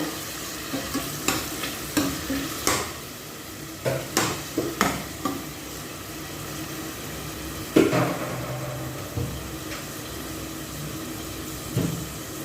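Chicken pieces go into a simmering mung bean stew and get stirred, with repeated spoon scrapes and clacks against the pot over a steady low bubbling sizzle, louder knocks coming in scattered bursts.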